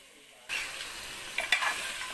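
Goat head curry hits a hot pan and bursts into a sudden loud sizzle, followed by a close scrape and clatter of stirring, the frying hiss continuing steadily, no talking.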